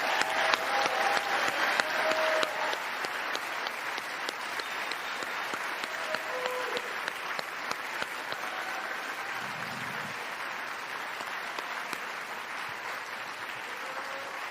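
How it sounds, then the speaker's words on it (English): Sustained applause from a large convocation audience honoring postgraduate medical graduates, dense steady clapping filling the hall for the full stretch with a faint voice or two underneath. "I think we need one more round of applause for our grads."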